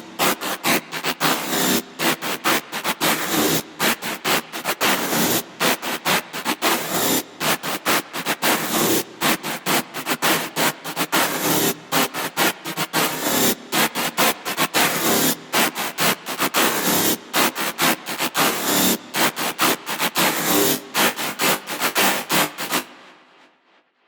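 Harsh, dense distorted synth tone made by chorus feedback producing sine wave distortion in Ableton 8, loud and continuous with rapid stuttering gaps, alone without voices, cutting off abruptly at the end.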